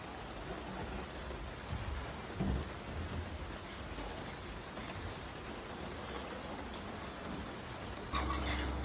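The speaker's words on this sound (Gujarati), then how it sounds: "મસ્ત વરસાદ પડી ગયો છે" Steady rain pours down with a dense, continuous hiss, a brief louder burst near the end; no voices.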